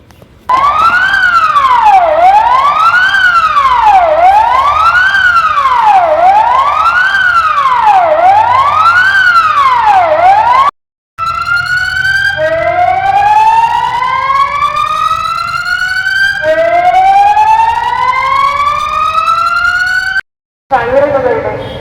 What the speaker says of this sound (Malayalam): ഇന്ന് വൈകിട്ട് നാലിനോടാണ് സൈറൺ മുഴങ്ങിയത്